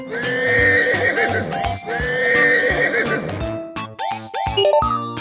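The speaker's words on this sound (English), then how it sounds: "Horse." A horse neighs loudly twice in long whinnies over clip-clopping hooves, with a bright musical jingle playing underneath in a children's animal game.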